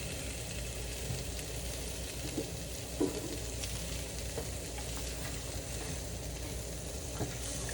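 Sloppy joe meat simmering in a pan: a soft, steady sizzle and bubble under faint kitchen noise, with a few small clinks along the way.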